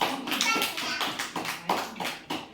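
A classroom of young children claps along in a quick, regular beat with a teacher, sharp close claps repeating under faint children's voices.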